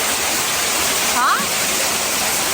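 Waterfall inside the Amethyst Cave in Ulsan, a dense, steady rushing roar filling the space, with a brief voice heard over it midway.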